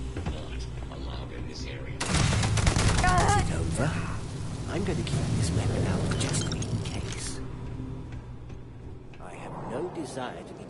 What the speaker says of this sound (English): Oh, please stop shooting at me.